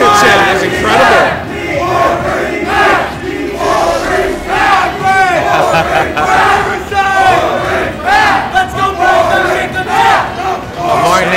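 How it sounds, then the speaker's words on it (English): A crowd at a Super Smash Bros tournament match roars and cheers continuously, loud and dense, with rising swells of shouting and excited yells filling the whole stretch. "The crowd's going wild."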